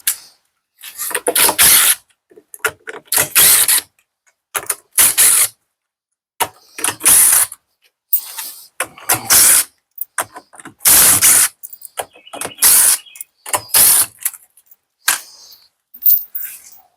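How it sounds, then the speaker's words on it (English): A 10mm socket ratchet removing screws from an LG front-load washer, with repeated bursts of sharp, loud clicking as the ratchet cranks, separated by brief pauses, close up with no talking. "And to take those out, you'll want to use a 10mm socket."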